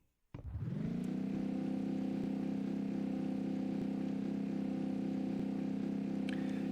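The Roaring Lion biodiesel engine from the Minecraft Create Mod kicks on with a sudden jolt and settles into a loud, steady, droning engine hum with a strong low tone, running unbroken and close up.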